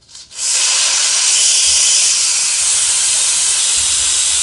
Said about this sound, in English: Now let's release the valve.